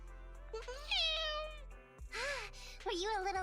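A cat meows several times in the Zenless Zone Zero video game, rising and falling high-pitched cries close and clear over a steady game music bed, with a short pause midway.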